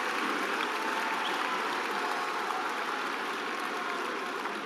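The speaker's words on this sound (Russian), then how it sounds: "И вы сами слышите, как болельщики отмечают эту победу." Fans in an arena hall at a KOK kickboxing event in Tallinn cheer and applaud after a knockout win, a dense, steady roar of crowd noise that holds loud throughout with no clear voices standing out.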